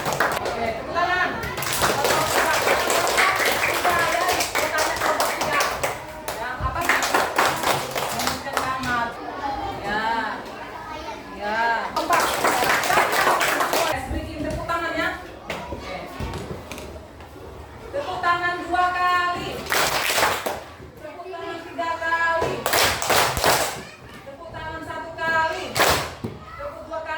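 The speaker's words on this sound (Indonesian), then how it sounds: "Oke, tepuk tangan." Schoolchildren clapping in a Pancasila civics class, bursts of rhythmic hand claps alternating with children's chanting voices and classroom chatter, close and loud in repeated rounds.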